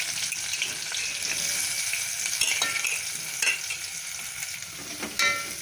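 Thinly sliced onions frying in hot oil with chilies and cumin, a steady close sizzle with stirring scrapes and small crackles, no talk.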